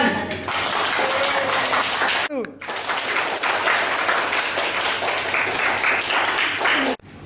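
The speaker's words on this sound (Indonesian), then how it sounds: "Beri tepuk tangan." Applause from a classroom of pupils after the teacher names the winning groups, steady clapping filling the room for several seconds, with some voices and a tonal whistle-like sweep mixed in, breaking off twice briefly.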